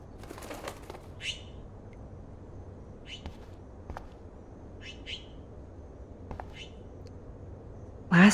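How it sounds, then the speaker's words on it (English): Soft bursts of a trapped bird's wings flapping inside a room in the game Life Is Strange, coming in short, scattered flurries over a quiet background hum. "Oh no, that poor little bird has been trapped in here."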